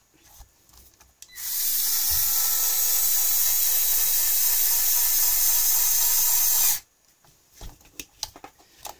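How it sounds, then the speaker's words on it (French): A cordless screwdriver from Action whirs steadily at high speed for about five and a half seconds, loud and close, starting and stopping abruptly, with faint handling clicks before and after. "tournevis du Action, franchement, il est génial. Il est assez rapide, on peut régler le couple dessus"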